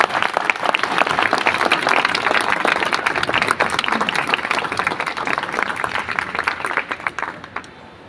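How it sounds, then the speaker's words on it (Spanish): An audience at a book fair event breaks into sustained applause, a dense wash of clapping that carries on for several seconds and then fades out, with no speech over it. "los recibimos con unas palmas"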